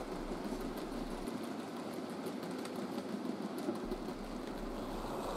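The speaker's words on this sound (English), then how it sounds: "a modified Bachmann 9F. It's heading the Cliff Uddingston cement block train" A modified Bachmann 9F model steam locomotive hauling a cement block train runs on a layout with a steady, even mechanical whirr and rail hum, moderately quiet and continuous, with no voices.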